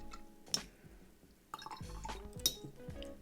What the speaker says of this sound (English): Wash that brush off. Yeah, good wash.